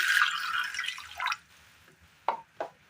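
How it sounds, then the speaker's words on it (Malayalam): Water poured into a pan of pumpkin pieces, a bright splashing stream lasting just over a second, followed by two brief drips or splashes, close and alone. "ഇനി ഇതിലേക്ക് ഒരല്പം വെള്ളം കൂടി ഒഴിച്ചു കൊടുക്കാം"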